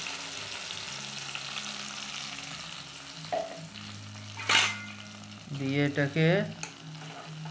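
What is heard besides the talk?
green chilli and coriander paste frying in paneer oil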